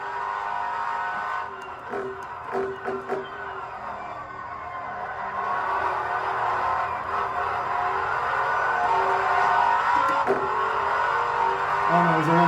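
A twin-turbo Ferrari F12 on a hot lap, its engine droning steadily and building in loudness toward the end, heard from inside the car with brief clicks and knocks early on.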